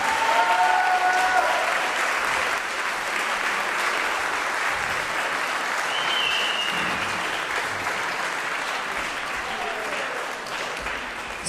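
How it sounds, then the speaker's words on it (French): A room full of people applauding, sustained clapping at steady strength for several seconds with a faint voice or two mixed in. "Je vous demande un tonnerre d'applaudissements pour Laurine, Chloé, Jonathan, Hamza."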